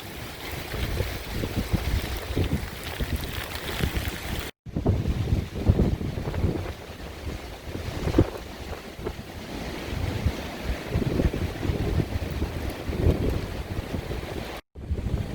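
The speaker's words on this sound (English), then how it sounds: "The wind is coming through stronger now." Strong wind during Hurricane Zeta in New Orleans, gusting loudly and continuously against the microphone with rushing, buffeting surges and two brief cuts.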